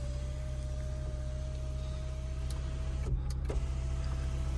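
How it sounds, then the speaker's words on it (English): The electric sunroof of a 2018 Subaru Outback 2.0 turbo diesel opens with a faint, steady motor whine inside the cabin, over a constant low engine hum and a couple of soft clicks. "Sunroof, which will open and slide as well."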